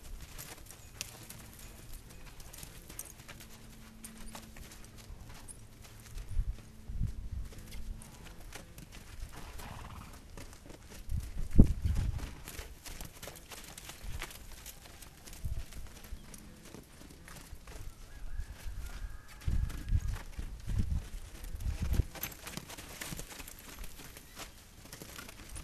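A horse being trotted out in an outdoor training session, its hooves clip-clopping in a steady, faint, somewhat distant rhythm over low ambient noise, with a few louder thuds and a brief snort.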